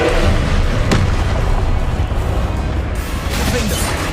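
A Confringo fire spell explosion in the video game Hogwarts Legacy, a loud, continuous booming blast with crashing rumble that fills the whole stretch, with a brief sharper burst near the start, alongside game noise.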